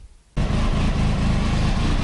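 A Triumph Tiger 955i motorcycle engine, suspected of damage and leaking on one side, starts abruptly after a brief quiet moment and runs loud and steady close by.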